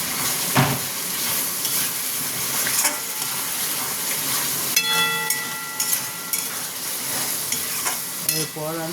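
Spice paste with ginger and garlic frying and being stirred in a pan, with a steady close sizzle and scraping strokes throughout, and a few brief clinks and bubbling bursts.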